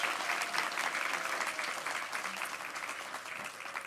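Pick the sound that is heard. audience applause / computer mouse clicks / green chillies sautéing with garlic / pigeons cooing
audience applause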